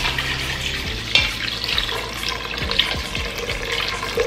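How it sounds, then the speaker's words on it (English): Water being poured into a pot while making South Indian sambar, a steady splashing pour with a few louder splashes, close and alone without talk. "And to this I am going to add water."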